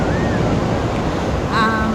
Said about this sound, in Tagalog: Kasi ang ganda ng mga alon dito.